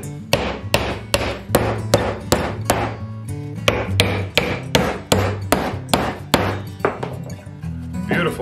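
A hammer drives nails into a birdhouse built from a license plate, about twenty sharp metallic strikes in a fairly even rhythm, close and loud, with soft talking between some blows.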